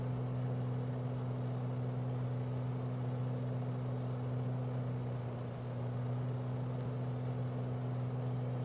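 Steady drone of a Beechcraft Bonanza piston engine heard from inside the cabin during a climb to about 7,000 feet, a constant loud hum with strong low tones and propeller whine, no talking.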